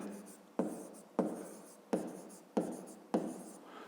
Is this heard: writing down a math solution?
yes